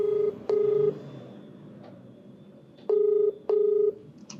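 Phone call being dialed: clear, loud DTMF keypad tones in two pairs of steady beeps separated by a pause, over a low room hum, with no voices.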